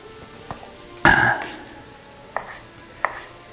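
A kitchen knife cuts beef into thin julienne strips on a board, one loud chop followed by a few lighter taps spaced out, close and otherwise quiet.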